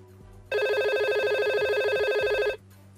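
An IP phone in Cisco Packet Tracer gives one continuous electronic ring with a warbling tone, lasting about two seconds before stopping abruptly, loud and clear over a quiet background.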